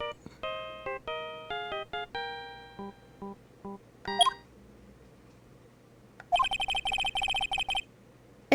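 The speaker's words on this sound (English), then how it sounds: "I know that song your phone plays when it rings." Phone ringtone playing the Steel Samurai theme from the Phoenix Wright: Ace Attorney Trilogy game, a bright beeping melody of stepped electronic notes, followed by a rapid trilling ring burst near the end.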